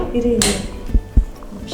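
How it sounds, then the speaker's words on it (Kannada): A metal frying pan set down on a home kitchen stove, with a bright clatter near the start followed by two dull low knocks, close by and with no one speaking. "ಒಂದು ಬಾಣಲೆ ಇಟ್ಕೊಳ್ಳೋಣ"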